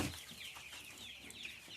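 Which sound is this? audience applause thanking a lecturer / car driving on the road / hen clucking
hen clucking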